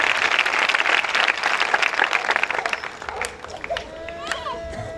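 A church congregation at a Pentecost sermon claps together, a burst of dense applause that fades out after a few seconds as a voice rises over it.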